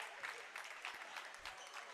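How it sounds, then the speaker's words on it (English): Home fans in a high school gym give a faint, steady round of applause at the end of a boys' basketball senior day game, heard from a distance as a soft, continuous patter. "But a round of applause still coming from the BTA faithful"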